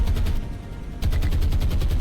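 Naval guns fire in War on the Sea, a rapid rhythmic series of booming shots, several per second, loud and close, with a short lull before a denser burst.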